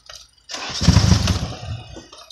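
A Nissan 240SX engine cranking after sitting nine years, a short burst of starter churning and rough engine turnover that dies away without catching.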